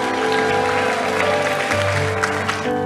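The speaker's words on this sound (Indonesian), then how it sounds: "Tepuk tangan lebih meriah gak apa-apa." Applause at an Indonesian church gathering, broadband clapping spread across a crowd over steady musical tones, with a low hum shifting near the end.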